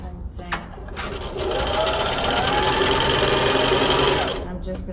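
A sewing machine stitches a homemade lunch bag, going back over a fabric loop to secure it, running in a steady close whir for about three seconds after a few short starts, with a voice talking.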